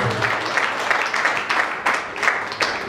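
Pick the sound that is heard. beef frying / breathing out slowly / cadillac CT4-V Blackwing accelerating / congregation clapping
congregation clapping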